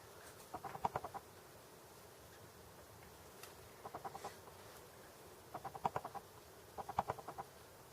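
Outside a window, a bird squawks in repeated short, agitated bursts of rapid calls, grouped into several clusters separated by pauses. It is faint and distant under low room noise.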